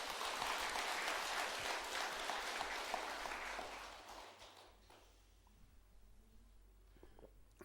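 Audience applause at a Buddhist temple Dharma service rises in a dense clatter of clapping, then gradually thins out and fades to quiet with scattered claps.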